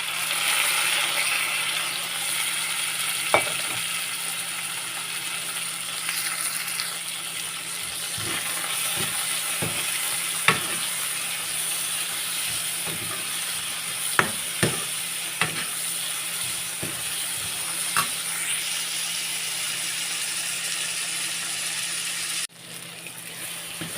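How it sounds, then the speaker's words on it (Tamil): Tomatoes sauté in a pan over onion and garlic for a kaara kuzhambu, giving a steady close sizzle throughout, broken by occasional sharp clicks and scrapes of stirring. "தக்காளி ஓரளவு நல்லா வதங்கிடுச்சு."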